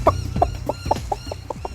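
Several chickens cluck in quick, uneven bursts nearby, their short calls overlapping against a low background murmur.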